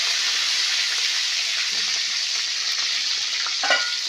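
Wet curry leaves hitting hot oil in a kadhai set up a loud, steady, close sizzle and crackle throughout, with faint clinks and a brief spatter near the end, no speech.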